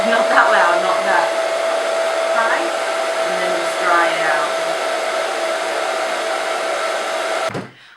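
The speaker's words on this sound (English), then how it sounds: "Then if you want, and if you're in a hurry, like I am, use a hairdryer." A hair dryer blows steadily up close to dry wax makeup for a Halloween gore look, a constant loud whir with a steady tone that runs for about seven seconds before cutting off abruptly.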